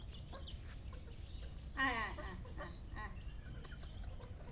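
A chicken gives one brief squawking cluck over steady broadband background noise, fairly faint and otherwise quiet.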